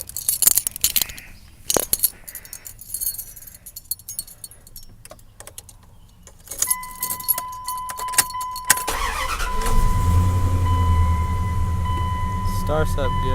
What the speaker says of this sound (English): My engine, let me go turn it on.